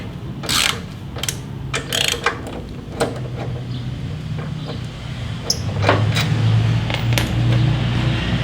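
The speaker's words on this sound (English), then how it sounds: "So we're going to go ahead and take this caliper off." Ratchet working on the brake caliper bolts of a Harley motorcycle with ABS, close irregular clicks and metallic clatter, followed by a steadier mechanical rattle and hum toward the end.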